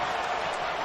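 Football stadium crowd roaring steadily on a 4th down play at an arena football game, Philadelphia Soul versus Washington Valor, a dense continuous wash of cheering with no breaks.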